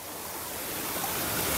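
Waterfall at an outdoor spot, a dense, steady rush of falling water that stays loud and constant throughout the brief moment, with no voices.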